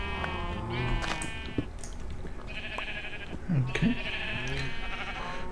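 Sheep bleat repeatedly from a video-game sheep spawner on a modded farm. The wavering cries are close and clear, and a single short spoken word is heard between them.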